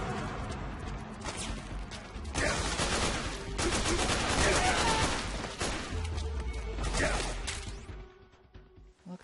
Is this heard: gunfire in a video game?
yes